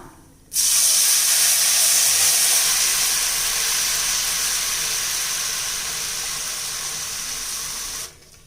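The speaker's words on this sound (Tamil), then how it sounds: "புளி கரைச்சி வச்சது இதில் சேர்த்துடலாம்." Tamarind water poured into a hot pan for puliyogare sets off a loud, steady steam hiss that starts abruptly, eases slightly over several seconds and then cuts off.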